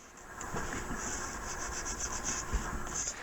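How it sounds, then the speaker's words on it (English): Plaster being sanded with wet dry sandpaper during plaster bowl mold making, a steady close rubbing scrape with faint uneven strokes and no talking. "That wet dry sandpaper, nice."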